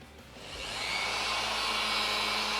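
A Mirka machine sands a stone chip repair on car paint with a continuous close whir that swells over the first second and then holds steady and fairly loud.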